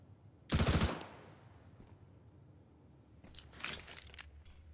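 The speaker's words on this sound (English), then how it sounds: "Just a little warning shot on Alexi." Counter-Strike gunfire during a professional esports match: a sharp, loud burst of rapid shots, then quieter distant shots a few seconds later over low background ambience.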